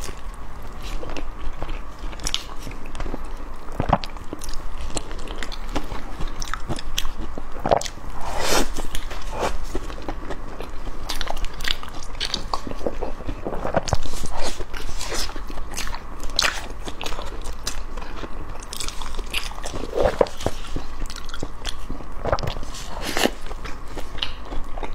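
Close-up biting and chewing of green rice cake (qingtuan), a sticky glutinous dessert, with repeated soft crunches and squishy mastication sounds throughout, no talking.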